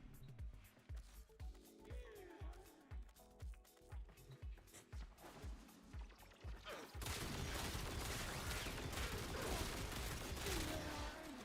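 Gunfire in Techrot Encore, a run of evenly spaced single shots pulsing in a steady rhythm, then giving way to a dense continuous roar of shooting, all at a low overall level.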